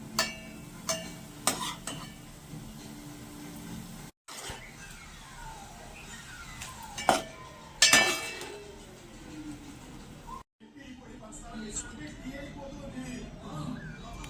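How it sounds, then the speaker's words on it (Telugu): Cleaned prawns frying in a pan, giving a soft sizzle broken by metallic clinks and clangs from a utensil, with a brief pause partway through. "మనము ఏదైతే క్లీన్ చేసి పెట్టుకుంటామో రొయ్యల్ని దాన్ని వేపేసుకోవాలండి"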